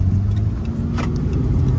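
A sheriff's car passes close by on a rural South Dakota road during a storm chase, its steady low engine and tire rumble filling the clip with a brief brighter whoosh near the middle.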